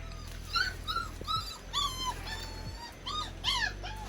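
A dog at a small shelter in Bali whimpers and yips in a run of high, rising-and-falling whines, about eight close, fairly loud cries over a low steady hum.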